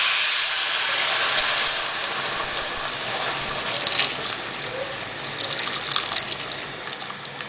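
Water pouring into a cooking pot over a whole onion and bay leaves for seswaa, a steady close gushing hiss that softens slightly as the pot fills, with no talking.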